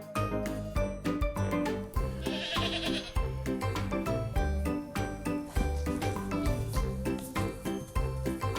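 Sheep bleating loudly over a busy, rhythmic backing of music, with repeated bleats mixed into the dense sound throughout.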